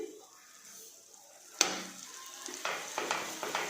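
Ground edible gum tipped into hot ghee for gundar pak bursts into a sudden loud sizzle partway through, after a quieter stretch of low simmering, then keeps crackling and frying with a few stirring knocks.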